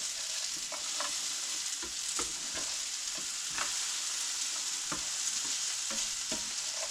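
Apple slices with cinnamon and sugar browning over turned-up heat in a pan give a steady close sizzle throughout, with scattered scrapes and clacks from stirring.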